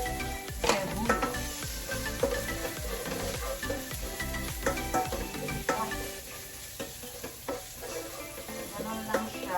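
Garlic browns and onion goes into a hot pan to sauté, a busy sizzle and stirring sound running steadily under background music, with no talking.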